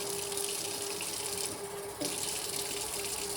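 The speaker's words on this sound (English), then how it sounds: "and fill it up with water." Tap water runs steadily into a pot of rice, a constant close hiss and splash with a slight change in tone partway through as the flow shifts.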